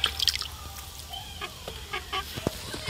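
Water drips and trickles nearby while a chicken sick with fowl pox is being cleaned, giving sparse close drips with faint bird calls in the background and no talking.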